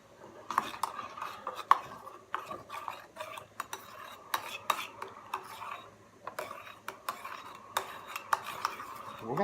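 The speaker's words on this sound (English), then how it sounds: "Let's stir up the coffee." A metal spoon clinks and scrapes around the inside of a coffee cup in quick, uneven strokes, ringing steadily for several seconds.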